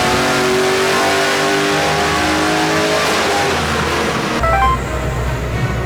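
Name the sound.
cammed V8 ute engine revving on a dyno run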